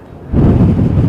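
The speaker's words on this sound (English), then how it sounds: "That'll give you an indication of just how windy it is." Strong wind buffets the microphone at an airport taxiway, a loud, low roaring gust that swells in after a brief quieter moment and stays heavy to the end.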